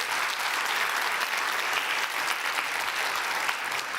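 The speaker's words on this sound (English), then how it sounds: "A round of applause," Sustained, even applause from a summit audience honoring winners and fellows after presentations at a democracy conference, a dense wash of clapping that stays loud and steady throughout.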